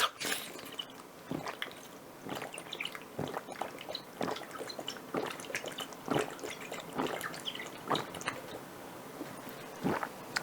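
Watermelon-flavoured milk containing 2% watermelon juice being drunk up close: a steady run of wet gulps and swallowing clicks, roughly one a second, with no talking.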